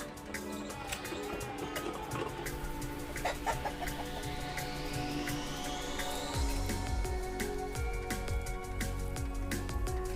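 Desi chickens clucking on a poultry farm, many birds close and distant overlapping in busy, irregular clucks and squawks, with a low rumble joining partway through.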